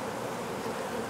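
Honeybees buzzing at a hive that recently swarmed, a steady dense hum with no pauses, close and fairly faint, with no voices over it.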